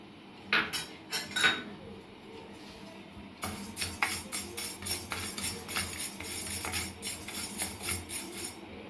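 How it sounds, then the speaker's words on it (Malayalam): Washed and dried kuthari rice is dry-roasted in a pan, a spoon scraping and clinking against the metal in quick rhythmic strokes, with a short pause before the stirring picks up again. "ആദ്യം നമുക്ക് കുറച്ച് അരി വറക്കാം"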